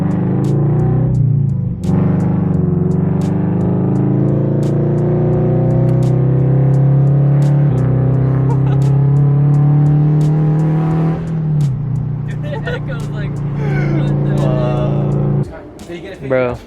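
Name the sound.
loud Subaru FRS exhaust rumble with unequal length headers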